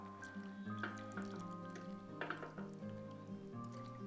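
About a cup of clear, strained vegetable broth is poured into a cooking pot, giving faint, soft dripping and splashing that stays low and steady throughout.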